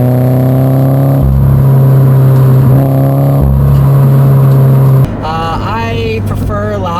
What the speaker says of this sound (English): it's very well controlled and it's very well mannered, this exhaust system